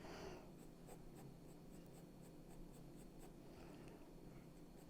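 A 2B graphite pencil shading across paper while drawing fur, a steady soft scratchy rasp of repeated strokes, quiet and close, with no voices.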